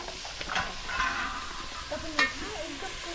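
Onion frying and being stirred in a pan, a soft sizzle with brief scraping strokes of the spoon close by.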